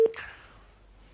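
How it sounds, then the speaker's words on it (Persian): A short telephone tone sounds once at the start, right after a caller's phone card runs out on a live call-in line, then quickly fades into near silence. "کارت تلفن آقای علوی تمام شد"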